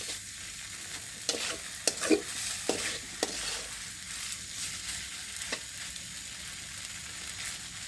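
Maggi noodles stirred in a pan, a spatula clacking and scraping against the metal in a handful of sharp, scattered strokes over a faint steady sizzle, quiet and close with no talking.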